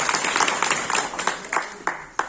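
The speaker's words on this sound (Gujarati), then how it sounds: "એકવાર જોરદાર તાળીથી વધાવો।" Applause from an audience at an Aam Aadmi Party political meeting in Bagasara, a dense spread of clapping throughout with several sharper bursts, fairly loud and close.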